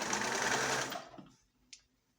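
A sewing machine runs fast and close while back stitching a throw pillow seam, a steady whirring hum that stops abruptly, leaving a few small clicks.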